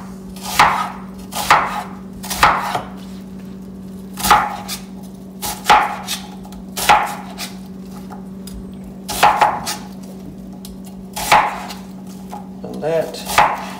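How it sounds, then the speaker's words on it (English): A knife chops an onion for chili on a cutting board, about a dozen crisp, close thuds in small irregular clusters over a steady low hum, with no one speaking. "That is the correct way to cut an onion for your chili"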